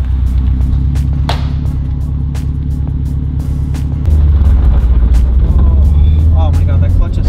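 A 2007 Subaru WRX STI driving, its engine giving a steady loud low rumble with a rise in drive note partway through, under continuous talk from people inside the car.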